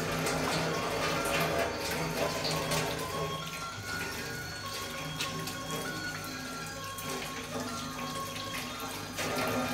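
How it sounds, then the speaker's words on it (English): Hands being washed under a running kitchen tap, with a steady, full rush of water splashing into the sink throughout, close and fairly loud, with occasional clinks. "wash my hands now guys."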